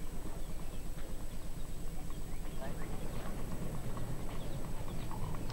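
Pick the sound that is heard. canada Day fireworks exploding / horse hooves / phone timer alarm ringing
horse hooves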